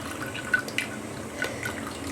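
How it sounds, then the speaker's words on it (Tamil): Coconut milk strained and dripping down into a vessel in a home kitchen while string hoppers steam nearby: a few close, light drips and splashes over a faint watery background, no talk. "தேங்காய் பால் கீழே வடிகட்டிட்டு இருக்கோம்"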